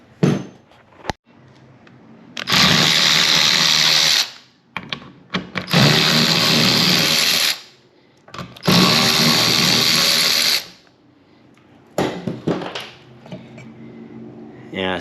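Power drill or impact driver spinning off a 10 mm bolt holding the drive gear on a John Deere lawnmower, three loud whirring bursts of a few seconds each, separated by short pauses and light clicks and handling noises.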